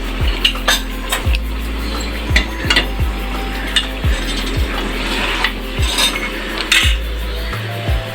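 A spoon scrapes and knocks against a kadai while spices are mixed into chicken, giving regular clinking strokes roughly every half second over a steady low hum, close and loud, with no talking.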